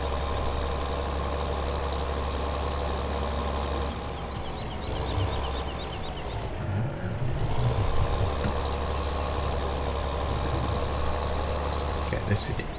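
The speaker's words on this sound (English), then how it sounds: "Take this tractor around the corner." A tractor engine from Farming Simulator 2015 drones steadily as the vehicle drives around a corner, with a constant low rumble that rises briefly mid-way, heard alone with no speech.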